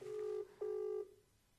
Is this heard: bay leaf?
no